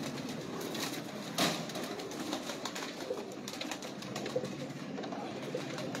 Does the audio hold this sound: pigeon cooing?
yes